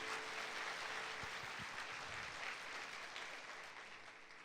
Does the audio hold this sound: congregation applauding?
yes